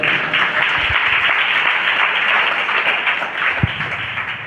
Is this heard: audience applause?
yes